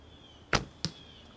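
Galaxy Black Ridge longbow loosing an arrow, a quiet close snap of the string followed a moment later by a second sharp thump, over a faint steady background tone.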